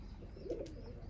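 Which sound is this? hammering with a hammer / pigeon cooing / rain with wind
pigeon cooing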